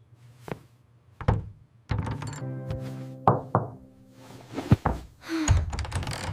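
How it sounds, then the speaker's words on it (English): Knocks land on a door in a few irregular groups of sharp thuds, fairly close, with brief hollow resonance and quiet gaps between them. "Let us knock on the door now."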